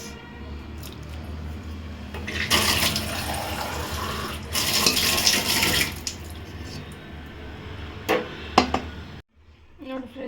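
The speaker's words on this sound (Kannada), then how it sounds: "ಇದಕ್ಕೆ ಸ್ವಲ್ಪ ನೀರು ಹಾಕ್ಕೊತೀನಿ" Water poured into masala dosa batter, heard as two louder rushing, splashing bursts over a soft background, followed by a few wet squishing sounds before it stops abruptly.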